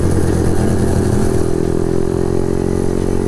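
A motorcycle engine runs loud and close, rattling with heavy vibration, a steady rough drone with a clattery low throb, on a Sunday morning ride toward Widarapayung beach.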